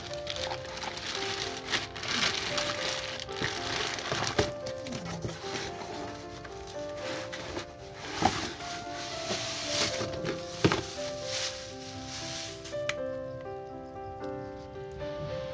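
Crinkling, rustling packaging with scattered taps and thumps as a weight gainer product package is handled and opened, fairly close and uneven in rhythm.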